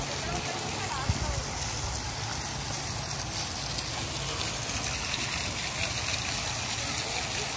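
A fountain at a zoo sends out a steady, close rush of splashing water, a constant wash of sound.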